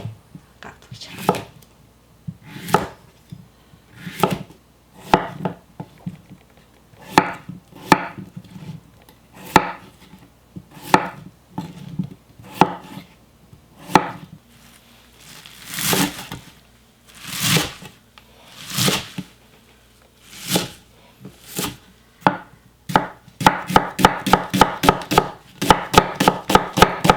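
A knife chops cucumbers for cucumber kimchi on a cutting board, with sharp, close, regular thunks at an unhurried pace. Near the end it speeds into a rapid run of chops.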